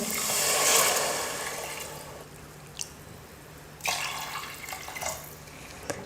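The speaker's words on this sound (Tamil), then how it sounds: "இப்போ இதே டம்ளரில் 2 டம்ளர் அளவுக்கு தண்ணி சேர்த்துக்க போகிறேன்." Water rushes steadily into a pot for a couple of seconds, then stops, followed by a few scattered clinks and drips; no voices.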